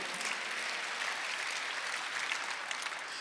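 A congregation at a Korean church's Sunday worship service claps together, a thick, even wash of applause filling the sanctuary for a few seconds.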